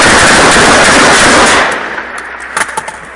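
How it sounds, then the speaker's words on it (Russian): Loud sustained automatic gunfire rattles continuously at an airport terminal building near Donetsk during a wartime attack, then breaks off into scattered sharper cracks and bursts. "Вот, видишь, здание, прям по зданию стреляй."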